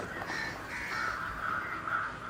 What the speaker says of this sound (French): Si les croassements sont aussi nombreux, ce n'est pas un hasard.